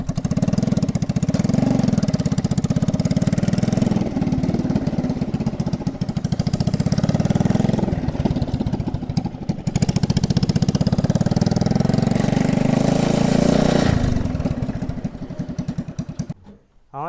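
A homemade petrol-engine tractor runs close by with a loud, steady mid-pitched engine drone and rapid firing pulses, holding for about fourteen seconds before the sound cuts off abruptly near the end.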